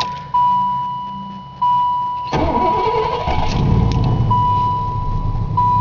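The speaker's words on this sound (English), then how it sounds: "It's got a 307 Oldsmobile engine, mostly stock, actually is stock" A 1986 Pontiac Parisienne Brougham with a stock 307 Oldsmobile V8 sits with a repeating warning chime beeping before the starter cranks. The engine catches and settles into a loud, steady idle close by.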